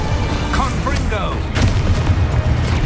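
A Confringo blasting spell explodes in Hogwarts Legacy, a loud, rumbling boom layered with other battle noise, while a voice calls out in the middle.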